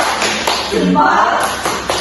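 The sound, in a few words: group clapping in salute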